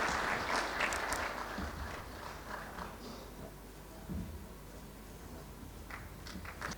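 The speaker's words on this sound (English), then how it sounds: "Shall we give a clap?" An audience at an aviation stakeholders convention opening ceremony claps, a steady wash of applause that is strongest at the start and gradually thins, heard slightly distant in a large hall.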